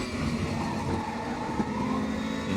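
BMW M4 DTM race car in RaceRoom at Zolder, engine droning steadily with a high, sustained tyre squeal running over it for the whole stretch, no voices.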